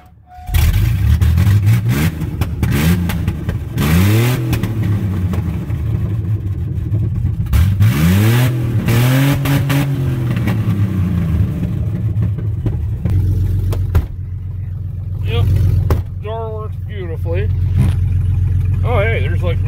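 A Chevy S10 pickup engine cranks, catches and revs in repeated rising and falling bursts, loud and close, then settles into a steady idle with occasional talk over it.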